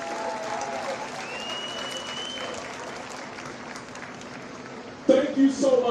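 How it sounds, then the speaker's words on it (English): Audience applause fills a school recognition ceremony, steady crowd clapping under a speaker's voice, followed near the end by a sudden louder burst of nearby sound. "Nice round of applause to Ms. Boyd, our assistant principal, Ms. Boyd."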